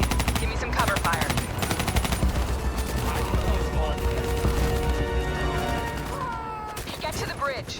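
Sustained automatic rifle fire and bursts of gunshots rattle nearly nonstop through a Call of Duty: Black Ops 3 campaign battle, loud and dense, with explosions and shouted voices mixed in.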